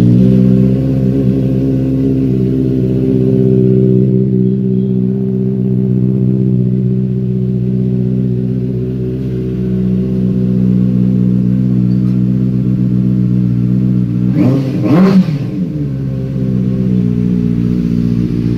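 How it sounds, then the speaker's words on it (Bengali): A Benelli TNT 600i motorcycle with a starting and misfiring problem idles with a steady, loud multi-cylinder hum, then a sharp throttle blip rises and falls near the end, with no talking. "এখন একবার অন করে দেখিয়ে দিচ্ছি যে বাইকটা স্টার্ট ঠিক নিচ্ছে কিনা।"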